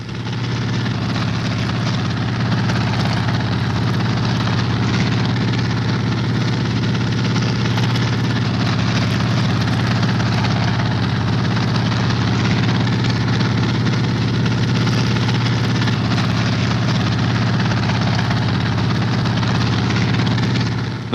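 A navy anti-submarine helicopter, flying from the aircraft carrier HMCS Bonaventure, holds a steady hover during a dunking sonar patrol, its engine and rotor making a loud, constant, droning roar for the whole stretch with no break.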